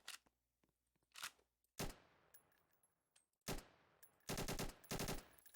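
FAMAS rifle firing in the Roblox video game, several sharp bursts of rapid automatic shots with short gaps between, faint clicks in between, no voices.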